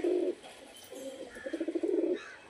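Pigeons coo softly nearby, a short call followed by a longer rolling coo, with quiet room noise behind.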